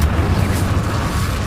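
An Incendio fire spell erupts in the Hogwarts Legacy video game as a brief, loud, dense whooshing blast with a low rumbling body that holds steady.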